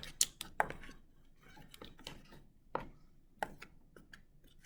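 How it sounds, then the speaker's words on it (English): Snow fluff mixture being stirred in a bowl, scattered light clinks and scrapes arriving in irregular bursts, close and fairly quiet with no talk. "And now I'm going to stir this mixture up."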